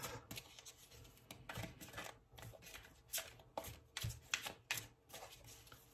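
Tarot cards being shuffled for a love reading, a steady run of soft riffling and flapping bursts close by, uneven in rhythm, with no voice over them.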